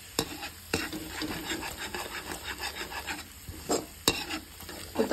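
Okra masala with turmeric and green chilli is stirred in a pan, producing quiet rasping scrapes and light knocks of a spoon against the metal over a faint sizzle, in uneven strokes.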